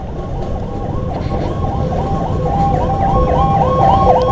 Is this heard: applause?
no